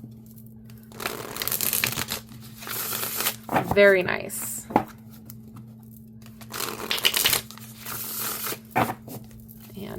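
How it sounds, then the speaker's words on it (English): A Rider-Waite-Smith tarot deck shuffled by hand in several short riffling and overhand bursts, close and crisp with quiet pauses in between, while someone talks. "And I'll show you how they shuffle."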